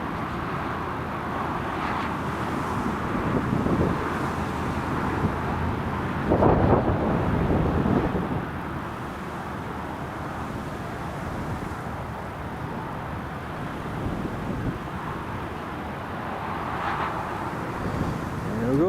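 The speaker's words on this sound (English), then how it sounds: "There we go, it's EasyJet taxiing." An EasyJet airliner taxis at Newcastle Airport on a stormy day as a steady, distant low engine rumble and whine, partly masked by gusting wind noise on the microphone, with no talking.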